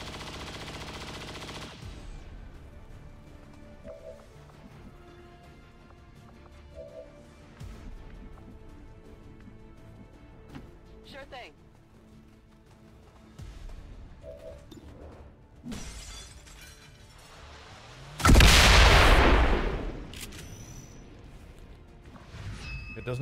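Soldiers' gunfire in XCOM 2: a loud burst of shattering shots breaks out late, after long stretches of quiet game ambience with a few faint short cracks earlier.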